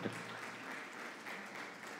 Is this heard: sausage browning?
no